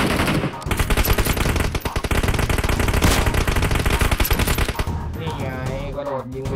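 Rapid automatic gunfire in the PUBG Mobile battle game, loud dense bursts of shots running continuously for several seconds before cutting off into quieter game sounds.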